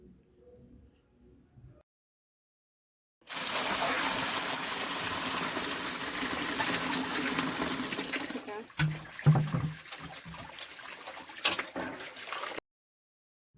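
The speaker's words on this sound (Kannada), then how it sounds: "3 ಸಲ ನೀರು ಹಾಕಿ ಚೆನ್ನಾಗಿ ವಾಶ್ ಮಾಡಿಕೊಂಡು ಅದರಲ್ಲಿರೋ ಮಣ್ಣೆಲ್ಲ ಹೋಗೋ ಥರ ಮಾಡ್ಕೋಬೇಕು" Water gushes and splashes into a vessel as mushrooms are washed to rinse off soil, a loud continuous rush lasting several seconds, then a burst of sloshing and clatter, with quiet pauses before and after.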